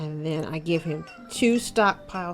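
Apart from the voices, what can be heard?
cat meowing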